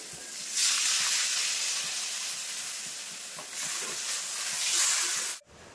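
Water poured into a pan of well-fried spices for a Bengali puti fish curry with brinjal, giving two long bursts of loud steamy hissing and sizzling, then a sudden cutoff, with no talk.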